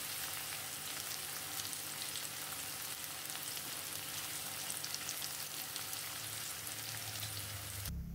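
Sliced shallots and garlic sizzle and fry in cooking oil in a wok, a steady close crackle running throughout with no speech.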